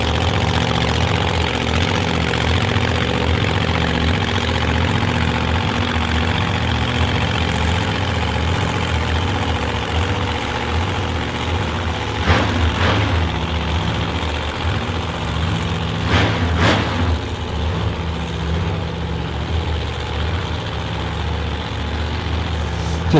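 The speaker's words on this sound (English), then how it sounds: "The engine sounds really, really good for Coon's car over there." A 1959 Chevrolet Corvette race car engine idles loudly and steadily at a qualifying drag-racing event, a deep continuous rumble with a few brief sharper blips partway through.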